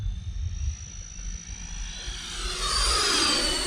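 A Freewing F-14 Tomcat 80mm electric ducted-fan RC jet flies past, its whine rising into a loud, bright rushing sweep that grows nearer and stronger toward the end over a low wind-buffeted rumble.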